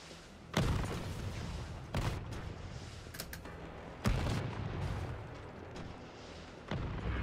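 Rocket launcher fire in Resident Evil 3: several heavy booming blasts spaced a second or two apart, each with a sharp onset and a rumbling tail over continuous low background noise.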